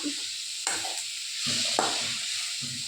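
Food frying in a pan is turned over and stirred: a steady bright sizzle runs throughout, punctuated by several sharp scraping knocks of the spatula against the pan, close and clear with no talking.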